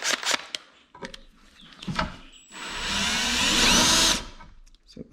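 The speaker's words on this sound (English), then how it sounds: "We are going to drill right down into this bad boy again." A power drill bores into a part of a Honda Big Red 250es three-wheeler, a steady whirring grind of about two seconds that starts and stops abruptly, set between quiet handling clicks and knocks close by.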